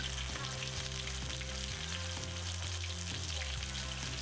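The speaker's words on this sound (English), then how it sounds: "And just let it fry for a few seconds, and then it's time to flip." Steady sizzling of food frying in a pan, constant crackle with faint clinks and low hum underneath, no voices.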